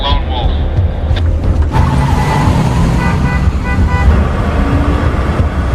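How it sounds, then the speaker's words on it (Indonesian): Cars sit in a traffic jam with a steady loud engine and road rumble, while horns toot briefly near the start and tonal honks sound through the middle, mixed under speech. "Sialnya, di perjalanan mobil Matt terjebak macet"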